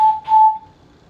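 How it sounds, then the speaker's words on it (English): A single person whistles one clear, sustained note lasting just under a second, loud and close, fading out at the end with no talk around it. "I just whistled like that"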